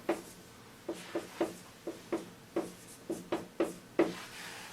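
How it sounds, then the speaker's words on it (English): Marker or chalk taps and strokes on a board while a physics formula is written out, about a dozen short crisp scratches in an uneven rhythm, close and fairly quiet in a still room. "let's write it down"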